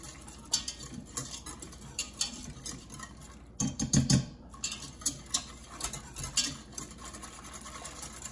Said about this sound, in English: let's just whisk.